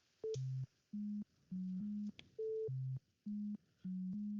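Sine wave tones from an oscillator in the Bespoke synth: a sequence of short, pure, steady beeps at a few different pitches in a quick repeating melodic pattern, clean and close, no talking.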